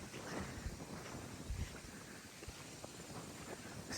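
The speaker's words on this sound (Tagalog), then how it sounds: "Sobrang lakas ng hangin." Strong wind gusts buffet the microphone at a mountain campsite on Mt. Calibungan in Zambales, a continuous rough roar with brief thumps, filling the scene with no talk.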